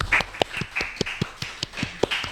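A small studio audience claps at the opening of an Indonesian podcast, giving scattered, uneven hand claps, fairly close and moderately loud, with no talking over them.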